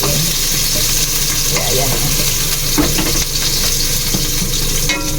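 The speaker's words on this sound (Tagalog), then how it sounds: "Pupulahin ko lang ng konti, lutuin ko lang ng konti yung bawang" Garlic sizzles loudly in a hot pan for a sautéed patola and sotanghon dish, with a continuous crackling fry and occasional stirring scrapes close by, while a person speaks briefly over it.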